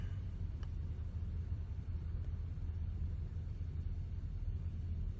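Steady low rumble of road noise and engine hum inside a moving car, continuous and even throughout with no talking.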